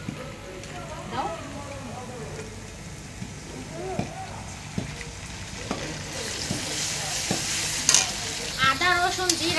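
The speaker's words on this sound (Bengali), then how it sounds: "আদা রসুন জিরা একসাথে ভাজা হয়ে গেছে," Ginger, garlic and cumin fry and get stirred in a pan for khichuri, with steady sizzling and scraping strokes; a voice speaks faintly in the background.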